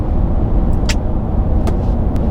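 A Ram 1500 Limited pickup truck on the move, its engine and road noise forming a steady, full low rumble inside the cabin, with a few faint higher clicks over the top.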